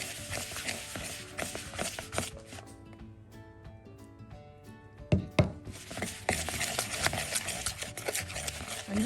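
Knife working cheese scone dough in a mixing bowl, a busy run of scraping, cutting strokes with a few sharper knocks against the bowl, close and fairly steady, easing briefly midway before picking up again.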